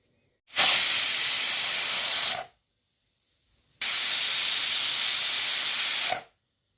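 A pressure cooker cooking leafy greens curry releases steam in two loud, steady hissing bursts of about two seconds each, separated by a silent pause, with no talk.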